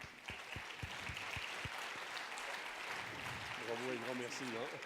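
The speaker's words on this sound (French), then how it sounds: "Donc on peut les remercier, les applaudir." An audience at a New Year's greetings ceremony breaks into sustained applause, soft and somewhat distant, with a few sharp claps at the start and a voice speaking over it near the end.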